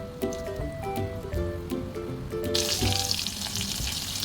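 Curry puff pastries frying in oil over medium heat, giving a steady close sizzle that turns brighter and hissier partway through, with faint clinks over it.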